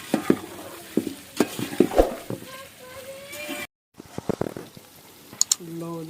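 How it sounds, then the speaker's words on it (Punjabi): Onions fry in a pot with tomatoes and green chilies. A soft sizzle runs beneath clattering spoon stirs and scrapes, while someone talks over the cooking. "ਥੋੜਾ ਜਿਹਾ ਫਰਾਈ ਕਰ ਲਈਏ ਨਾ।"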